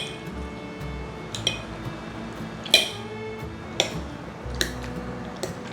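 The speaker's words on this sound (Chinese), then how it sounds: "把豆腐压成泥状" Tofu mashed into a paste in a dish, heard as sparse, light clinks and taps of a utensil against the plate at irregular intervals over quiet, nearly silent background.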